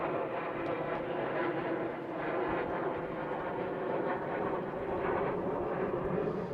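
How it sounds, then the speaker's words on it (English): Military jets heading toward RAF Valley roar overhead as a steady, broad rumble that stays loud and even throughout, with no talking. "Jets there going to RAF Valley."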